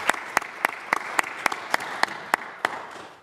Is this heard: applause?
yes